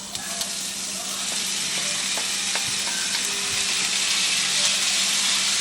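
Corned beef is added to translucent sautéed onions in a pan and fries with a loud, continuous, close sizzle. Faint scraping ticks sound under the hiss throughout.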